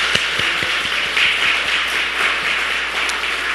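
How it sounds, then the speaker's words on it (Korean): A church congregation applauding the guest pastor, a dense steady roar of many hands clapping at once, loud and close, filling the whole stretch without speech. "우리 강사 목사님께 감사하다는 박수"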